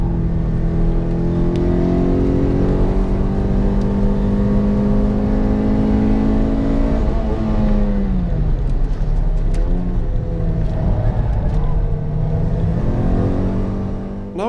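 A Toyota Corolla T Sport on wider tires lapping a circuit during a track day: a loud, continuous in-car engine drone that holds high revs, drops with a gear change, then climbs again, with no talking.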